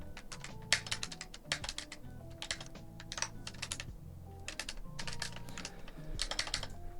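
Typing on a custom mechanical keyboard fitted with Akko Lavender Purple switches and XDA-profile dye-sublimated PBT keycaps, quick bursts of crisp clacky keystrokes separated by short pauses, close and clear, with no talking.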